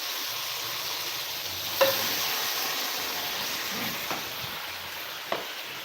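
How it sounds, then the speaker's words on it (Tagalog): Chicken curry broth with potatoes and carrots is stirred in a pot, giving a continuous close simmering hiss with a few soft clinks of the spoon against the pot and no voices. "Halo natin po yung sabaw niya."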